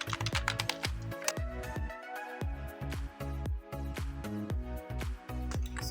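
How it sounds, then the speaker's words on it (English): Fast, close clicking of keys as someone types on a computer keyboard, a busy irregular clatter with brief pauses between bursts. "type T on your keyboard for the text option and then type in anything"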